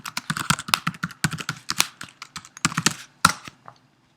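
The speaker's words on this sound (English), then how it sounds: "grab a terminal and type in sudo raspi-config" Quick, close clicking keystrokes on a computer keyboard as a terminal command is typed for a Raspberry Pi, in short irregular bursts ending with a firmer final key press.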